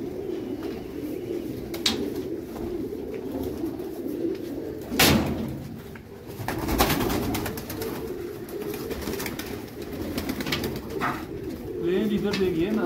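Silk pigeons coo steadily in a loft, a low, continuous murmuring chorus with occasional knocks and someone talking over it.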